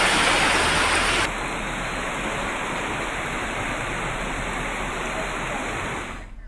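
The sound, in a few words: heavy rain and flooding water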